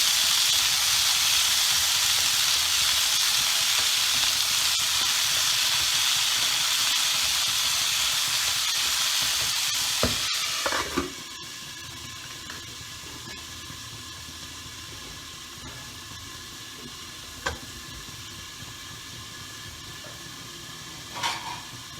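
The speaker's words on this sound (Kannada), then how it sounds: "ಇಕ್ಕಿದ ಕಾಳು ಹಾಕಿ ಸ್ವಲ್ಪ ಫ್ರೈ ಮಾಡ್ಕೊಳ್ಳಿ" Soaked field beans (avarebele) fry in a pan with a loud, dense steamy hiss that abruptly drops to a quieter sizzle midway, followed by a few isolated utensil clinks.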